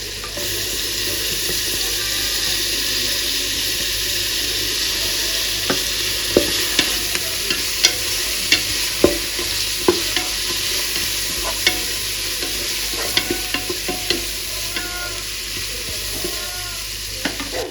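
Green chillies fry in hot oil in a pan for tomato bath, making a loud, continuous sizzle broken by frequent clicks and taps of stirring.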